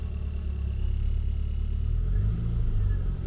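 A classic Mini Cooper's engine pulls away with a low, steady rumble close by, revving slightly as the car starts moving.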